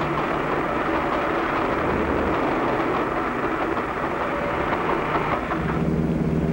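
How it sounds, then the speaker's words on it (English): A heavy, continuous rumble of a train rolling past nearby, steady and loud throughout with a broad roar and no speech. "A train is coming."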